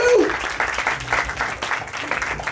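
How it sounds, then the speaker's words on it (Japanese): At a high school beatbox battle, the audience claps to vote for a competitor, making a brief, loud, dense burst of applause with a short tone at the start. "では続きまして高校横丸が良かったと思う人拍手。"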